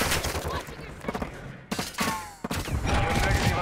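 Rapid bursts of automatic gunfire in Call of Duty: Modern Warfare II, dense and loud with short breaks, while radio-style voices speak over the shooting.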